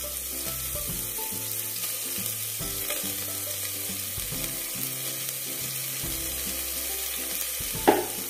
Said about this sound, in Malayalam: ഇനി ഇതൊന്ന് വഴറ്റിയെടുക്കണം ഒരുപാട് നേരം ഒന്നും വഴറ്റിയെടുക്കണ്ട ഇതൊന്ന് സോഫ്റ്റ് ആകുന്നവരെ വഴറ്റിയെടുത്താൽ മതി